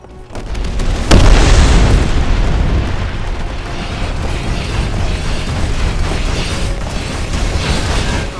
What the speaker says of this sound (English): I'm detonating these things and crippling the facility.